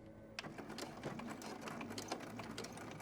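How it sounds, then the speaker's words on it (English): A sewing machine runs in a quick, even mechanical patter while stitching orange binding fabric on a small zipper bag, close and continuous after a short quiet start. "making sure to sew on my piece of orange binding fabric"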